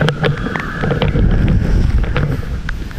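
Strong wind over the Dealul Blajei hilltop buffets the microphone in steady gusts, a loud, rumbling roar with scattered crackles and no voices.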